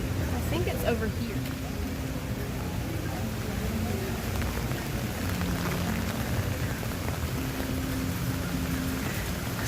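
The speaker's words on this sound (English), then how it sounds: "It's raining." Steady rain falling outdoors at a theme park in the evening, a continuous even hiss throughout with faint background activity.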